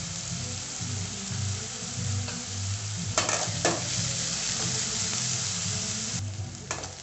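Onions sautéing in a pan for a jackfruit seed and brinjal curry, a continuous low sizzle with spoon-stirring scrapes, a few sharper clinks, no talk.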